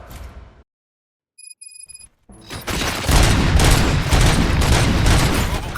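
Gunfire in the game RoboCop Rogue City: a short burst and a few electronic tones, then a brief silence, then sustained loud rapid shooting that fills the rest of the clip.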